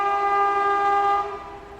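A long, loud train horn sounding close as the Amrit Bharat Express is overtaken at a flat 130 km/h, holding steady before fading into rail rumble.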